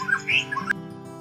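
A Bali myna sings a brief burst of whistled, squawky notes over a steady low hum, clear and close.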